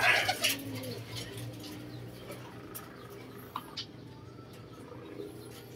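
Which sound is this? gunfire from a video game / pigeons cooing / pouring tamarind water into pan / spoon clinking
pigeons cooing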